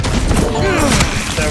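A shotgun fires in the video game Vampire The Masquerade, a loud, dense burst of blasts filling the short moment with booming low rumble and crackle.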